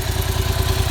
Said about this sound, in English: This is the standard sound of the mt07 with